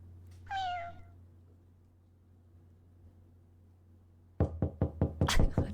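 Stream alert sound effect: a cat meows in a short falling cry, then after a quiet pause a series of loud, sharp knocks raps out near and clear, with no talking.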